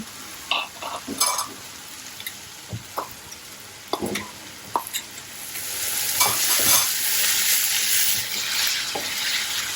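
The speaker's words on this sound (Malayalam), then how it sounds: "ഇതെല്ലാം കൂടി ഒന്ന് മിക്സ് ചെയ്ത് ഡ്രൈ ആക്കി എടുക്കാം." Ash gourd and grated coconut stir-fry (thoran) is stirred in a pan, with sharp spatula scrapes and knocks in the first half, then a louder steady sizzle rising and holding, close up and without speech.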